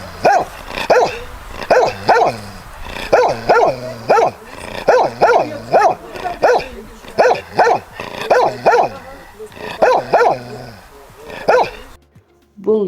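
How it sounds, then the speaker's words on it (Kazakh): A dog barks in short repeated bursts, several quick barks in a steady rhythm, loud and close, with a brief quiet gap near the end. "Ал бұл ит. Ит аф, аф, аф, аф дейді."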